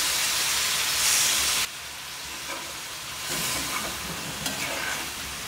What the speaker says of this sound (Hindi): अब इसमें थोड़ा सा हम पानी डालेंगे ताकि जो हमने मसाले डाले वो आलूओं के अंदर अच्छी तरह से कोट भी हो जाए और हमारा मसाला जले भी नहीं।